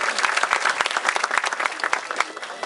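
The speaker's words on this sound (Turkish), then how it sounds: "onlara kocaman bir alkış göndermek istiyoruz" Audience at a Turkish music ensemble concert opening bursts into big, dense applause, many hands clapping together in a loud, continuous crackle.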